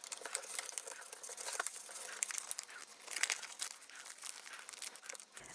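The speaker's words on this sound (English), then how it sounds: "push down along those creases and do the same thing with this side" Paper is creased and folded by hand for an origami dinosaur, giving a close, quiet run of crinkles and crisp rustles with sharper snaps as folds are pressed flat. No voices.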